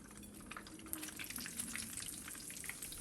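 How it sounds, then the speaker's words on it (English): Breaded pork chops fry in a pan of hot oil, giving a steady, dense sizzle with scattered pops and crackles. The frying runs continuously at a moderate, close-up level. "Put in our 2 more remaining pork chops."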